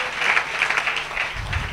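A church congregation applauding in thanks during a testimony service, a steady wash of many hands clapping at moderate volume without a break, with no speech over it.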